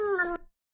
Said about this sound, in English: Funny cat.